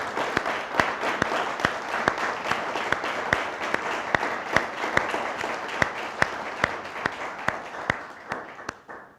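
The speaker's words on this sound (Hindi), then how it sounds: "फिर ज़ोरदार तालियां" A church congregation claps in a fast, steady unison rhythm, loud and close, the beats evenly spaced over a dense bed of scattered applause that fades toward the end.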